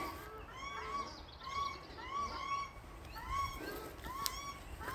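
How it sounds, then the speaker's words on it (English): A paradise shelduck honks in a repeated series of harsh calls, fairly distant and faint, about four or five bursts spread evenly across the stretch. "that Paradise Duck has something to say"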